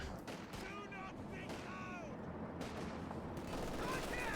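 Machine gun fire in Company of Heroes 2, Wehrmacht against US Forces, raking cavalry riflemen amid a dense, continuous battle din of gunfire, with a commentator talking over it throughout.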